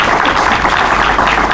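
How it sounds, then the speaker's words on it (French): An audience at a graduation ceremony applauding: dense, continuous clapping from many hands, loud and close, sustained evenly for the whole moment. "l'assistance peut vous applaudir"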